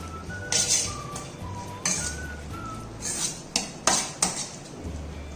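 Spoon mixing caramelized onion peanut sauce gravy in a metal pan, with repeated scrapes and sharp metallic clinks in uneven bursts, close and fairly loud, no talking.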